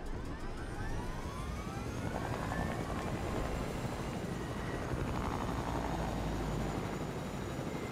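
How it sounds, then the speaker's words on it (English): Steady helicopter rotor and engine drone in a video game, loud and continuous throughout with a dense broadband wash and faint whine, no talk. "The helicopter's taking damage."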